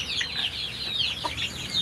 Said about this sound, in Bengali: এখানে দেশি মুরগি আছে অনেক।